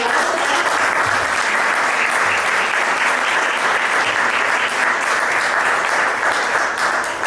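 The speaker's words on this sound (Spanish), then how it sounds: "le podemos dar un fuerte aplauso" A community gathering gives sustained, loud, dense applause, an unbroken roar of clapping at a steady level from start to finish.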